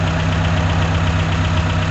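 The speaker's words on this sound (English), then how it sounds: "Engine runs as expected." A rebuilt Nissan Pulsar EXA turbo engine runs at a steady idle, a loud close low rumble with an even rhythmic pulse and no voices over it.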